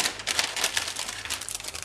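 A plastic craft packet crinkles as it is opened, a dense run of crisp rustling and crackling bursts close by with no voices.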